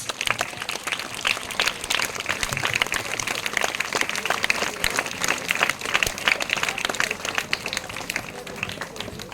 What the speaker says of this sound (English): Give them huge round of applause.